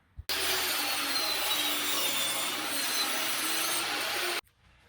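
A scrap 1x3 board is ripped lengthwise to make it narrower, a loud continuous cutting roar starting abruptly after a brief knock and stopping sharply near the end.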